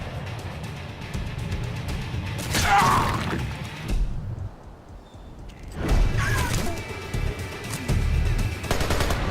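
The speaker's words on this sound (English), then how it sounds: "this level also has quite a lot of explosions" Gunfire and explosions in Splinter Cell: Conviction, Diwaniya, Iraq level: two bursts of loud firing and blasts separated by a quieter lull, with mechanical clatter throughout.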